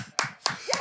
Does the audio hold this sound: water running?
no